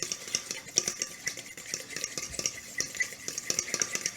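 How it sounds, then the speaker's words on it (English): An egg is whisked in a mixing bowl, producing rapid, fairly quiet rhythmic scraping and clinking of the utensil against the bowl, continuous and close. "After we get our egg mixed up"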